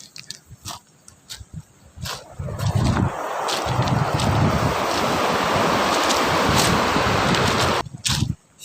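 Ocean waves crash onto a beach beside a rock formation at the foot of a mountain, a loud, sustained roar of surf with gusting wind buffeting the microphone at the start and end.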